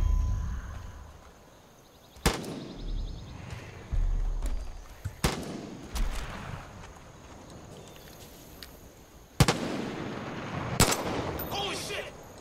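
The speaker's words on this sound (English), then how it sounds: "Shoot down those vultures." Bursts of gunfire in the Far Cry 5 video game as a player shoots down vultures, sharp loud shots and short volleys spaced across the clip over a low rumbling game ambience.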